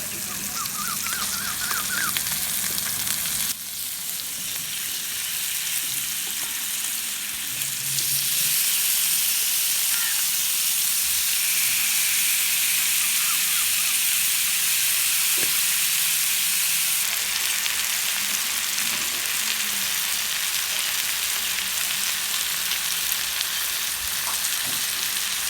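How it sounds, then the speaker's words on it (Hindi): Chicken pieces frying in oil in a pan for a spicy chicken burger, a steady loud sizzle that grows more intense partway through and continues unbroken, close and with no talking. "चिकन भी बिल्कुल फ्राई हो चुका है। इसको हम पैन से बाहर निकाल लेंगे।"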